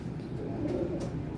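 A Kasuri golden pigeon coos briefly, a soft low throaty burble heard close by with faint background noise.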